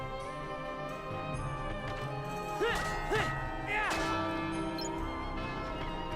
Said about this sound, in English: I don't know if there's something if you ring all the bells.